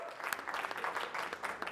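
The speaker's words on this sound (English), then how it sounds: "Give them a round of applause" An audience claps in a brief burst of applause. The sound is steady and dense but quiet, as if heard from a distance.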